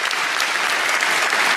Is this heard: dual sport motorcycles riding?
no